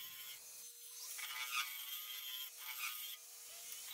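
A woodturning tool cuts into a resin and wood burl spinning on a lathe, giving a steady, close scraping and shaving rasp with a faint motor hum beneath.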